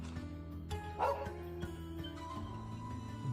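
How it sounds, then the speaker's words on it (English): A dog barks in short yips and woofs inside the Trails of Cold Steel II game, a few quick calls over a steady soft game-music background. "Gotta check on the dog."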